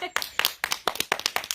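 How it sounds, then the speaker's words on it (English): A small group at a family Shabbat gathering clapping, a brief round of separate, close hand claps with uneven spacing. "Big round of applause."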